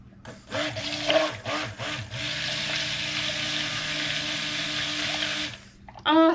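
Cold process soap batter is blended with a motorized mixer, a sustained whirring buzz running several seconds after a few short starting bursts, close by, then a brief burst of talk at the end.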